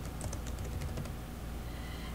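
Quiet typing on a computer keyboard, a quick burst of light key clicks in the first second that fades into a faint background hum.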